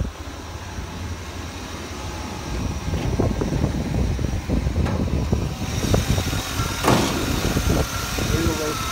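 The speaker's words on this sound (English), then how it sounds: "That's a 305 throttle body injection. I mean, it's all there. It sounds decent, very decent." A 1987 Chevy square body pickup's 305 throttle body injection V8 idling steadily under the hood, a close rumble with clattery ticks, while someone talks over it.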